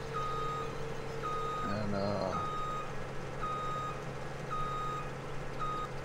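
A truck in a farming video game reverses with a regular series of high electronic beeps over a steady engine drone, and a voice briefly cuts in partway through.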